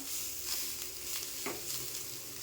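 Grated coconut roasting with onions in a pan, a soft steady sizzle with occasional faint stirring scrapes, fairly quiet throughout.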